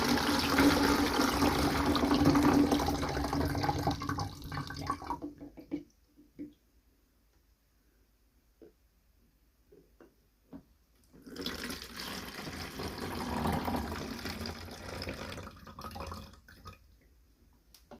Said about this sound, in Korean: 쌀뜨물 같은 경우에는 한 번 정도 세척한 물은 버려주시고 두 번째 물부터 이렇게 받아가지고